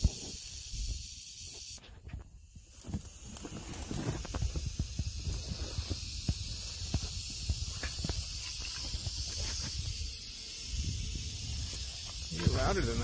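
Southern Pacific rattlesnake (helleri) rattling in the field, a steady dry buzzing hiss that carries on through the whole stretch, fairly loud and continuous with faint movement sounds around it.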